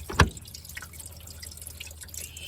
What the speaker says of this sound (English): You can see the water aggressively running over the top.